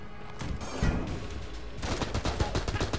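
AK rifle fire in the Enter the Gungeon video game, with scattered shots and a heavy thump early on, then a quick run of rapid bursts in the second half, loud and continuous with no voices.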